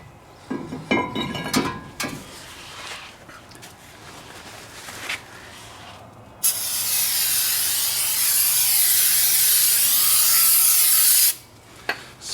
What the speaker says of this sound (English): Spray it, give it a wipe, get all that crud off of there,